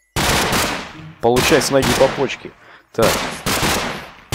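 Kalashnikov rifle gunfire in the video game Minecraft: loud, close bursts of rapid automatic shots with short pauses, and a voice speaking briefly between bursts.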